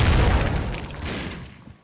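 A grenade exploding in the shooter game Critical Ops, a loud deep boom that rumbles and fades out over under two seconds.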